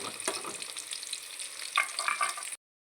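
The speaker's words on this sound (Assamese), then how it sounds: "পিঁয়াজখিনি অলপ ব্ৰাউন কালাৰ নোহোৱালৈকে ধুনীয়াকৈ ভাজি ল'ম, যাতে কেঁচা গোন্ধটো নোলায়।" Onions fry and sizzle in a pan while being stirred, a steady hissing crackle with scraping stir sounds, close and fairly quiet, ending abruptly.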